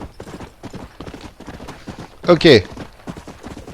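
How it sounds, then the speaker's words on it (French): A horse gallops in the Western video game Red Dead Redemption, its hoofbeats a steady rapid clatter under a voice, with a louder burst of noise near the end. "Il est pas mal ce cheval, il est rapide."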